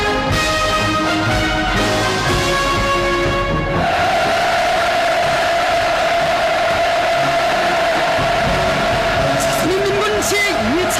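Mass cheering erupts from participants at a North Korean military conference, the First Conference of Rear Service Officials of the Korean People's Army, a loud sustained roar of many voices filling the hall with music beforehand.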